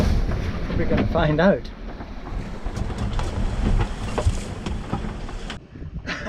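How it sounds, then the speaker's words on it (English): Storm waves pound a Contessa 26 sailboat in the Atlantic, a rough mix of wind roar, crashing water and irregular thuds against the hull, with someone speaking briefly early on. "So how long can a boat withstand a pounding like this?"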